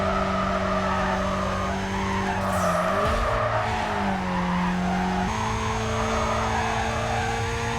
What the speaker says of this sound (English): Like the sound you expect a Supra to make in a video game.